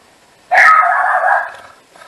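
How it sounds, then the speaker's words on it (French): A small dog barks in one sustained, loud, close yapping burst at a passing mail carrier, fading off after about a second with no talk over it. "C'est mon petit chien. C'est rien, ça doit être mon facteur qui passe."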